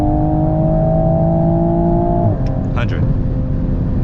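A 2020 Toyota Supra A90 pulls hard at full throttle from highway speed, its engine a loud, steady drone that dips briefly partway through as if shifting, over constant road and wind noise.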